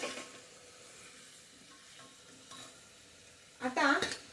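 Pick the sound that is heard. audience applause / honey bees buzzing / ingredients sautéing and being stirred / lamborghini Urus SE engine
ingredients sautéing and being stirred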